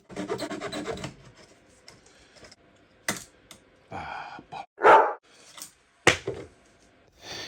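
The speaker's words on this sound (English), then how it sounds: "I used my pad saw as well to get in the corners." Parkside pad saw with thin jigsaw-style blades cutting into scrap wood, heard as a burst of close rasping strokes followed by scattered scrapes, knocks and brief handling sounds.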